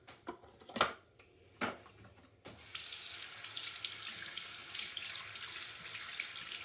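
Tap water runs into a sink to wet a silicone item, starting after a few soft clicks and knocks, then a steady close hiss of flowing water continuing to the end.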